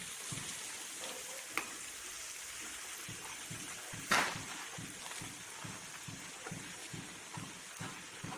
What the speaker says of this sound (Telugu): పావు కప్పు అల్లం వెల్లుల్లి పేస్ట్ పచ్చి వాసన పోయేంత వరకు బాగా నూనెలో వేయించుకోవాలండి.